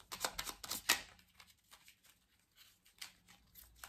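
Small oracle cards shuffled by hand in a quiet room, a run of quick crisp riffling bursts that fade into softer, sparser flicks and taps.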